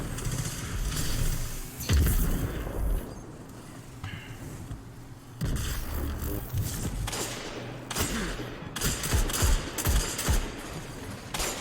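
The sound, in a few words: gunshots in the video game Destiny 2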